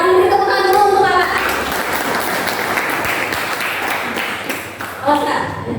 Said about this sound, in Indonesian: Beri tepuk tangan dulu untuk kakak.